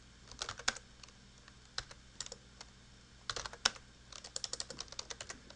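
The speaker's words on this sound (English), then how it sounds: "I type bash, and then I type the full path name of the folder containing" Bursts of clicky keystrokes on a computer keyboard while entering a command and folder path at a terminal, coming in quick irregular clusters with short pauses, close and clear with no talking.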